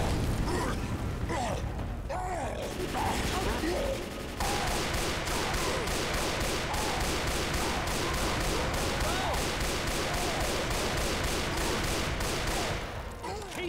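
Sustained incoming gunfire in the video game Ottawa Rock City, with rapid automatic bursts rattling in a steady rhythm over a noisy battlefield, loud and dense for most of the stretch.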